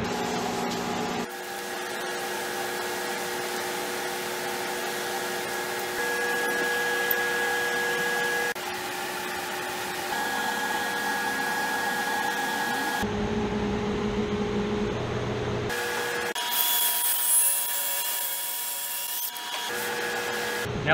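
A power saw cuts straight through a stack of wooden boards, trimming them all to 6 feet in one pass. The steady whine holds close and loud for about twenty seconds, with a rougher, louder stretch near the end.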